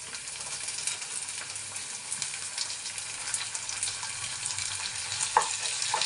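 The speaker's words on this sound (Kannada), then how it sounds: "ಬೆಳ್ಳುಳ್ಳಿ ಫ್ರೈ ಆಗಿದೆ. ಈರುಳ್ಳಿ ಹಾಕೋತಾ ಇದ್ದೀನಿ." Onions frying in a pan after garlic and dried red chillies for a fenugreek leaf gravy, giving a steady close sizzle with light stirring scrapes throughout and no talking.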